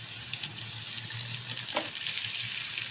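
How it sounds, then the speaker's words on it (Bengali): Small shrimp are added to a pan with fried garlic and onion and crackle in a loud, steady sizzle, with brief popping bursts and no talking. "এরপরে আমি যে চিংড়ি মাছটা দেখো ধুয়ে কেটে বেছে রেখে দিয়েছিলাম সেটা আমি দেখো পুরো পরিষ্কার করে নিয়েছি, সেটা আমি এর মধ্যে ভাজার জন্য দিয়ে দিচ্ছি"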